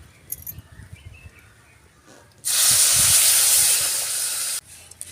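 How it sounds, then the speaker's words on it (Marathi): A loud, sudden sizzling hiss bursts up for about two seconds as water is poured into a hot spice mix, then cuts off, with quieter clattering before and after. "आता आपण याच्यात पाणी ओतूया"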